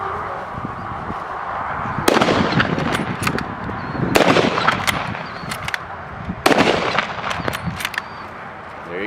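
A WWII paratrooper weapon fired down range at an outdoor WWII weekend demonstration: three loud, sharp bursts of shots about two seconds apart, each echoing briefly across open ground.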